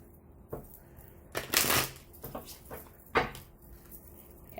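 A deck of tarot cards is shuffled by hand in a few quick riffling bursts, close and crisp, separated by brief pauses.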